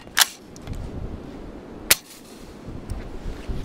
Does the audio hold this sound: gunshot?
yes